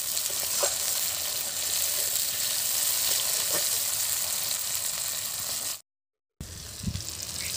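Chopped tomatoes with salt fry in a pan, giving a steady, close broadband sizzle with a few faint clicks of stirring, a brief silent gap near the end, and no talk.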